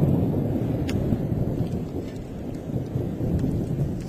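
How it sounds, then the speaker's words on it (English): Thunder rumbling during a blizzard snowstorm, a loud, continuous low roar that swells and fades over several seconds, alone without voices. "Thunder snow."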